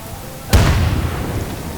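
A grenade detonates in the PC shooter Insurgency: a sudden loud boom with a deep low rumble that lingers and slowly fades over the following second.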